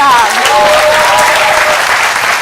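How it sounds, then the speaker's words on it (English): Loud, close applause at an Executive MBA graduation ceremony, a dense wash of clapping from the assembled families and friends with a voice briefly heard over it. "Give her a big applause"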